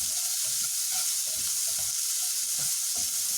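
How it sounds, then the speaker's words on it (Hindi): Chopped onions fry in a pan over a low flame, a steady bright sizzle with soft rhythmic stirring scrapes, close and alone. "अब इसमें हम ये प्याज ऐड कर देंगे, कटा हुआ प्याज। प्याज को भून लीजिए।"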